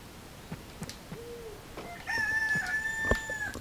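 Roosters crow and chickens cluck on a farm in a video game, sparse soft clucks at first, then a louder drawn-out crow rising over the quiet scene.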